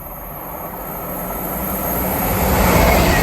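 An Avanti West Coast Class 805 Evero train passing at Tamworth on the West Coast Main Line, a steady rumbling roar that swells louder as it draws nearer, no voices.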